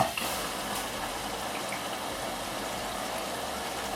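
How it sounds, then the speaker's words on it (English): Water flows into a Bosch washing machine at the start of a 30-degree wash after an F.21 error repair, a faint steady hiss and trickle with no voices. "sounds like water's coming in"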